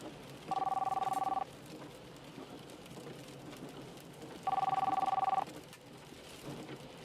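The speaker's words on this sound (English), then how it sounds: "there's a phone call here at the beginning" A telephone rings in the game Manus Dei in two separate electronic trilling bursts, each about a second long and a few seconds apart, over a soft rain-like ambient background.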